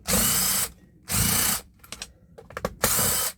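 Power tool unscrewing very rusty screws, with three loud buzzing bursts of about half a second each and rattling, ratcheting clicks between them, close up.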